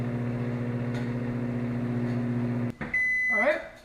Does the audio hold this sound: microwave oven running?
yes